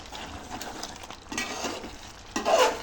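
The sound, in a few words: stirring meal maker chicken curry in a pan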